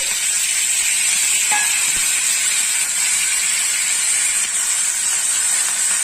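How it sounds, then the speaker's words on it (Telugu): Tempering spices sizzling in hot oil in a pan, a loud, steady, close hiss and crackle that holds evenly throughout, with no voices. "పోపు దినుసులు వేగినాయి కదా."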